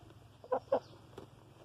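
A rooster, injured after a fight with another rooster, gives two short close clucks followed by a fainter third, quiet against a low background hum.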